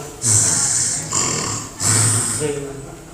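A voice imitates a man snoring, making three loud rasping, snorting breaths in quick succession at close range.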